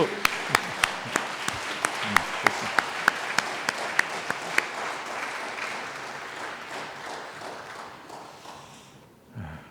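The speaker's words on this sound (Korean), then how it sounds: "박수" Applause at a university president's inauguration ceremony at Hanshin University, starting with sharp, rhythmic claps from a crowd that blend into sustained clapping, then thin out and fade near the end.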